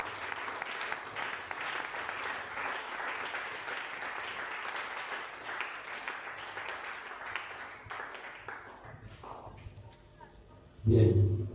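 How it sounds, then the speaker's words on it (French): A church congregation applauds and cheers for the Lord, sustained clapping over a crowd at a moderate distance, fading toward the end before a louder thump closes it. "Est-ce qu'on peut acclamer le Seigneur?"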